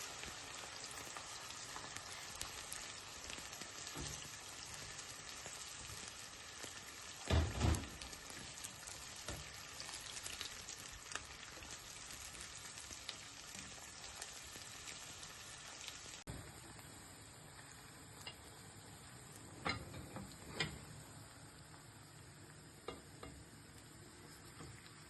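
Chopped onions fry in hot oil in a pot, giving a continuous crackling sizzle with occasional scraping and clinking of a stirring utensil, steady and fairly close with no talking.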